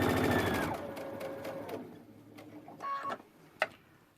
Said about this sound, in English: we're going to sew a locking stitch, and then we're going to sew away